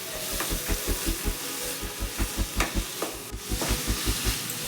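Thinly sliced onions fry for a chicken liver pepper fry, with a steady crackling sizzle and a fast, regular run of spatula strokes thumping and scraping the pan, close and moderately loud, with no voices.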